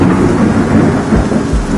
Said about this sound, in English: it appears we have a second part of this storm moving through